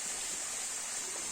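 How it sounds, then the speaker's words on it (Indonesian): Water pours from a mountain spout at Gunung Sagara, a steady, close, hissing rush of flow with no break and no voices. "kita langsung menuju ke pancuran ya, pancuran air dari gunung ini atau disebut dengan Gunung Sagara"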